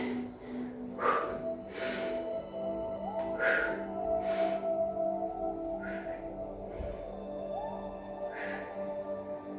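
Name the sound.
breathing out during Pilates exercise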